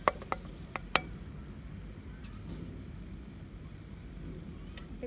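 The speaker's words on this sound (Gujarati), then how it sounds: "એટલે આપણે હળદર ઉમેરી દેવાની અને મિક્સ કરી લેવાની." Turmeric stirred into hot oil in a pan while cooking an aubergine dish, a few faint spoon clicks against the pan at the start, then a quiet steady sizzle.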